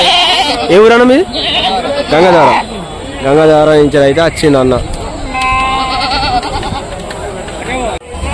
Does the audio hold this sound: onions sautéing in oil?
no